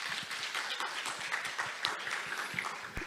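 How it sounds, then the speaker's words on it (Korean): A conference audience at an international ESG keynote session gives a dense, steady wash of applause that stays at a moderate level and fills the whole moment, with no clear talking. "여러분 큰 박수 부탁드립니다."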